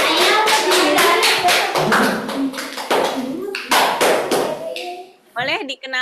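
Children clap their hands in rhythm during a lively classroom introduction, a steady run of sharp claps over about five seconds with voices mixed in, then fading out.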